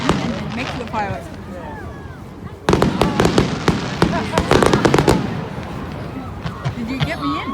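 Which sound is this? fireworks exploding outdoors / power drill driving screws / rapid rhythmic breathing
fireworks exploding outdoors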